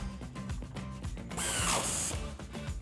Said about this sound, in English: Using our 19mm socket, we're going to tighten down the bottom nut on our end link.